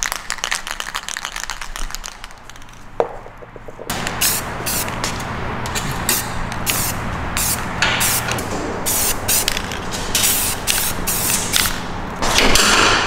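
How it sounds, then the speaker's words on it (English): Spray can painting car headlight bezels black: a long series of close, loud hissing spray bursts with short gaps, following a quieter stretch of shop background. "we're gonna shift over to painting these black."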